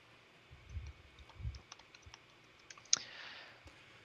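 Soft clicking of computer keyboard keys in a quiet room, a few scattered keystrokes and light taps with one sharper click near the end, faint and close with low thumps under it.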